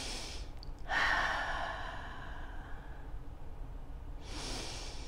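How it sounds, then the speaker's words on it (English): A slow, deep breath drawn in and let out during a calm gratitude exercise, soft and close, followed by the start of another inhale near the end. "So let's take some deep breaths."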